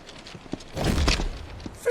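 A horse in Final Fantasy XVI clops its hooves in a short burst and gives a brief whinny, fairly close and at moderate volume, with some faint game ambience around it.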